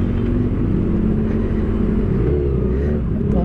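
A 2020 Kawasaki ZX6R motorcycle idling and creeping through traffic, a steady loud low engine rumble with a constant drone and no clear revs, no talking.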